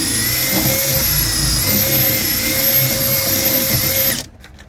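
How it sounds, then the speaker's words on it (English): A power drill whines steadily at close range while widening holes in a raised garden bed, a loud continuous high-pitched motor drone that cuts off abruptly near the end. "So I'm just putting the drill in like this."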